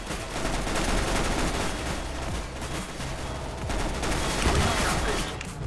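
Dense gunfire from Counter-Strike: Global Offensive, a loud, continuous barrage of overlapping shots and crackling bursts with no pause, mixed with game noise.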